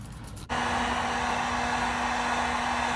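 A hair dryer or heat gun starts abruptly and then blows at a steady loud whoosh with a low hum, heating wrinkle-finish paint in a 280Z engine bay. No one speaks over it.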